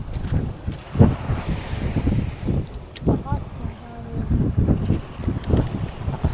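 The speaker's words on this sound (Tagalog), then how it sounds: "Lakas nga ng hangin" Strong gusty wind beside a river buffets the microphone in uneven low-pitched bursts, rising and falling throughout while people talk.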